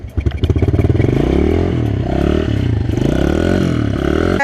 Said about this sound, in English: And you can start up the bike.